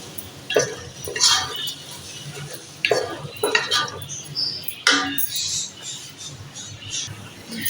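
Chicken cooking in a pot for Chinese pulao, stirred with a metal utensil: irregular clinks and scrapes against the pot over a soft sizzle, with someone talking throughout.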